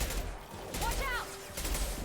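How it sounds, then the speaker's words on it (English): Impact shot gunfire in Mass Effect 2, heard as a couple of sharp, rapid bursts of fire broken by a short pause, with brief whistling tonal sweeps in between and no voices. "Firing an impact shot."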